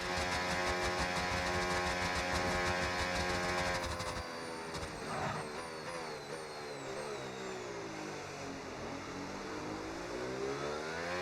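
An F1 race car in the video game F1 26 screams through a qualifying lap, loud and sustained high-revving engine tones that drop sharply then climb again through repeated gear shifts, with no talking.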